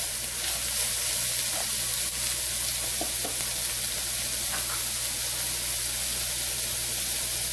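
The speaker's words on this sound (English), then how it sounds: "And now we're going to let them saute a bit." Chopped large red onions sauté in a pan with a steady, even sizzling hiss that holds at constant loudness throughout, with faint stirring touches and no voices.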